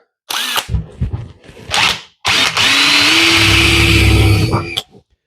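A power drill bores a 1/4 inch hole in a metal truck tent rack, with a few short bursts followed by a long, loud, close whine of steady drilling that stops abruptly.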